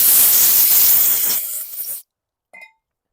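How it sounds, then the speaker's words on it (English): Loud, close hissing blast of compressed air cleaning out a spark plug hole on a lawn mower engine, lasting about two seconds and tapering off, followed by a brief faint metallic clink. "I'm going to blast this plug out with some compressed air"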